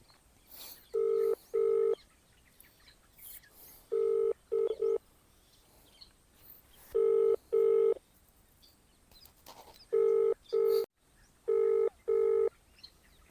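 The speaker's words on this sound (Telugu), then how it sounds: "ఇప్పుడు మన కస్టమర్కి ఫోన్ చేద్దాం మనం" Paired electronic dialing beeps come in short bursts of two, repeating several times with pauses between, clear over a quiet background.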